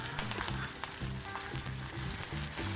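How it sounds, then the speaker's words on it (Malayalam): Dried red chillies and curry leaves crackling in hot oil for a bitter gourd curry, a steady close sizzle with a soft repeating pulse underneath and no one talking. "വറ്റൽ മുളക് കൂടെ നന്നായിട്ടൊന്ന് മൂത്ത് വരുമ്പോൾ കറിവേപ്പില ചേർത്ത് കൊടുക്കാം"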